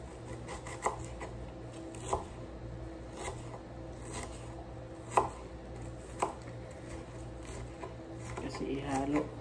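Food is chopped thinly on a board for Arabic mashe, with a steady series of knife taps and several sharper strikes, close and fairly quiet.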